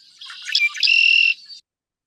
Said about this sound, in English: there's our red-winged blackbird